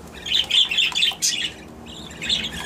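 Young budgerigar chicks give shrill, raspy chirps in quick clusters, close up and fairly loud, with brief pauses between bursts.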